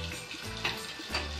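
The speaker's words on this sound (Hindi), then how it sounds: "ये ऑयल मैंने गरम कर लिया अच्छी तरीके से और मैं इसमें थोड़ा सा मक्खन भी शामिल कर" Butter sizzling in hot oil for dal makhani, a steady faint crackle with a few soft pops and spits, heard alone in a brief quiet stretch.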